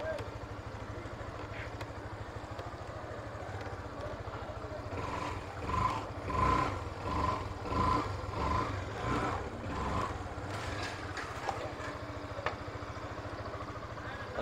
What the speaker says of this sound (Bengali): তো বাইক যেহেতু স্টার্ট করছি এবং চাকাও ঘুরতেছে, ডিস্কটাও দেখা যাচ্ছে